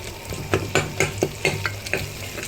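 Biryani masala with coriander powder stirred in a pan for Rayalaseema chicken biryani, a spoon scraping in a steady rhythm of about ten strokes over a low sizzle, close and clear with no talk.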